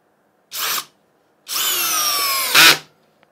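A Parkside PBSPA 12 C3 12V cordless drill drives a screw. The motor gives a short whir, then a longer steady whine for about a second that rises into a louder final burst, close up with no talking.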